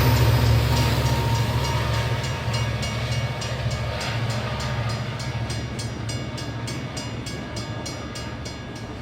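A train car on the Incline Railway at Lookout Mountain, Tennessee rumbles steadily with a low mechanical drone and a regular clicking rhythm that grows more distinct as it goes, loud and close, with no voices.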